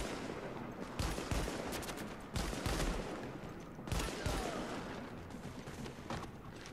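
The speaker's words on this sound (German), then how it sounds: "da schießt doch irgendeiner auf uns" Gunfire in the shooter game The Division, a string of sharp rapid shots and bursts at moderate level over a steady background, with no voices.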